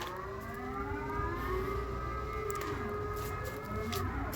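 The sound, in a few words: civil defense siren test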